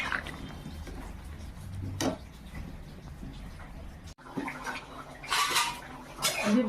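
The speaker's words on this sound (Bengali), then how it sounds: "একটু বেশি করেই জলটা দিয়ে দিলাম" Water is poured generously into a pot of mutton curry, giving a splashing, rushing pour amid clinks of metal cookware, with a brief break and then louder splashes.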